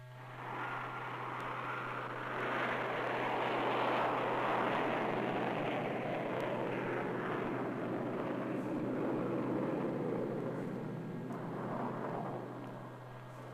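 An F-102 Delta Dagger jet fighter-interceptor in flight during an MB-1 rocket ejection firing, a broad, steady jet roar swelling and easing over several seconds above a constant low hum.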